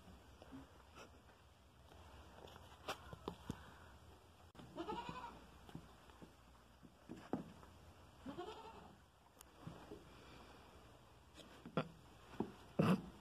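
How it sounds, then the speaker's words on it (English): Goat bleating in a goat house during a birth, several short, fairly faint bleats and rustling scattered over quiet background, some close and some further off. "a goat's having her baby and Donk has to be near his mama."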